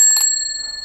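A bicycle bell on a touring bike rings once, sharp and bright, then its metallic tone fades away over less than a second.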